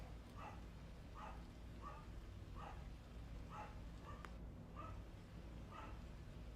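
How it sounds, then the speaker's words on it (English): A dog barks at a new person in the house, a faint distant series of seven evenly spaced barks under steady background noise. "I hear the dog barking, and usually that means somebody's at the door."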